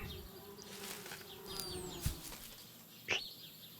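Bees buzz in the point-and-click video game Anna's Quest, a steady insect hum with a couple of short sharp clicks over it, no talking.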